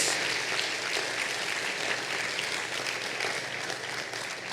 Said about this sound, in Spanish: Démosle un aplauso al que nos ha mantenido fieles.